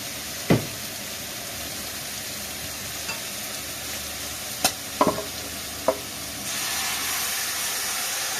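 Beef roast sizzles in hot oil in an Iraqi home kitchen, a steady broadband hiss broken by a few sharp pops and clatters, growing louder and fuller near the end, with no talk.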